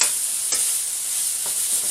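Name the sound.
chicken and vegetables stir-frying in a pan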